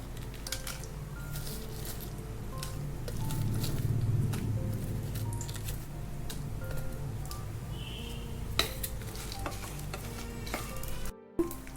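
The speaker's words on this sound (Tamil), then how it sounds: "எண்ணெய் நல்லா காஞ்சோடனே இதில் கொஞ்சமாக நம்ம எடுத்து வச்சுருந்தோம்ல விதை இல்லாமல் அந்த வரமிளகாய் இதில் சேர்த்துடுவோம்." Seedless dried red chillies hit hot oil for Chettinad-style chicken uppu kari, giving a steady close sizzle and crackle with occasional stirring scrapes and clicks, no talking.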